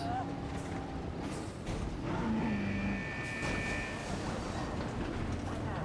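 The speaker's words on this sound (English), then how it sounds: "there's a goat running" A goat in the dinosaur park game Jurassic World Evolution gives a drawn-out bleat in the middle, under ambient game noise, while someone talks over it.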